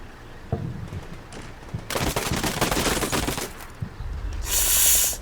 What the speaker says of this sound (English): Nice shooting, Humvee.